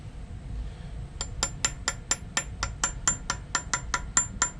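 A hammer strikes a center punch set on a bolt, giving about fifteen sharp, light metallic taps in a quick, steady rhythm, close and clear over a low background hum.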